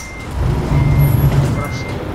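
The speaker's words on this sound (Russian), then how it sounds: "Даже звук сигнала." Horn of a Peterbilt 389 Custom truck in Euro Truck Simulator 2: a low, steady blast of about a second rises over a continuous engine rumble, loud and close.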